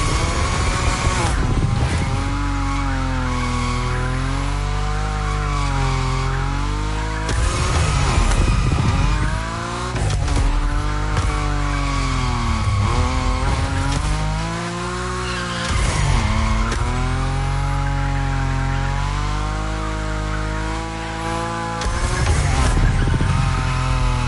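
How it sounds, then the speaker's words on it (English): A Nissan Nismo drifts at high speed in The Crew Motorfest, its engine roaring steadily while the tires squeal in long wavering slides that rise and fall, loud and close throughout. "Your Nismo is powerful enough to slide along on its own when you're at high speed"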